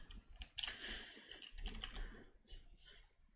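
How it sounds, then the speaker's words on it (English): Quick, irregular keystrokes on a computer keyboard as an amount is typed in, a close, quiet clatter of separate clicks alone with no voice. "I'll just type the amount in there"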